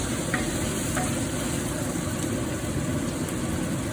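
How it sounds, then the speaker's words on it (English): Steady, dense sizzling of prawns frying in a pan, continuous and close, with faint stirring scrapes. "So we're just frying that around."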